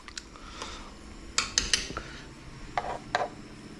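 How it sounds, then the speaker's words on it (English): A spoon taps and clinks against cooked black beans in a pot, several light scattered knocks with a pair of quick ones near the middle and two more toward the end, close and fairly quiet with no talking. "When you can just real simply just hit them with your spoon"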